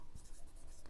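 Pen writing numbers on paper during a maths lesson, faint soft scratchy strokes in a short quiet burst.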